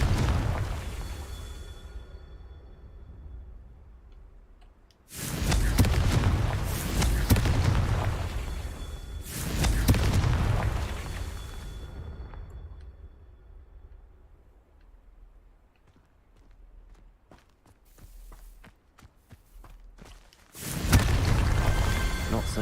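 Confringo fire spell explosions in the Hogwarts Legacy video game go off as a few loud, sudden blasts, each fading out into quieter gaps before the next one hits.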